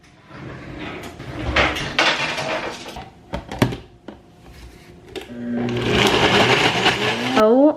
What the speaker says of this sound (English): So I just finished putting it all in here, and I'm just gonna blend it up in the blender.